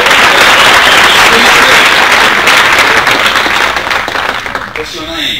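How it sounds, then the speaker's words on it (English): A round of applause from a crowd at a leadership training session in Atlanta, loud dense clapping that starts at full strength and slowly thins out toward the end. "Give him a round of applause."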